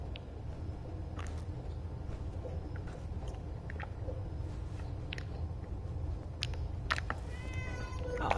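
A cat meows in Fallout 4 over a steady low game ambience, with short quiet calls and one clearer high meow near the end.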